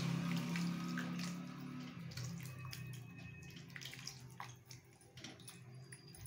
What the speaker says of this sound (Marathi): एक ग्लासभर आपण पाणी घातलं त्यात